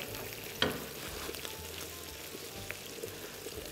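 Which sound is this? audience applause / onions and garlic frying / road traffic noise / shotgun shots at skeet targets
onions and garlic frying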